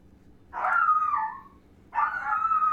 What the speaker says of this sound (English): Dog alarm is going on.